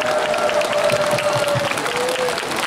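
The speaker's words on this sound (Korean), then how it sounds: "여러분 참가자들에게 박수 한번 더 주시기 바랍니다" An audience at an outdoor song festival during a grape festival applauds the contestants in a steady, even wash of clapping. A sustained tone hums faintly through it.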